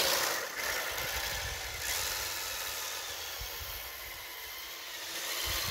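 The motor of a small radio-controlled snowmobile hums steadily as it drives forward, a continuous mid-pitched buzzing whine with slight rises and dips in speed and no talking.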